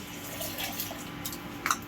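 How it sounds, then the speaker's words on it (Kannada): Water pours into a pot of ground masala for a dry fish curry, making a short, steady splashing and gurgling stream close by with a few brighter drips. "ಇದಕ್ಕೆ ನೀರು ಹಾಕಿ ಹಾಕೋಬಿಡ್ತೀನಿ."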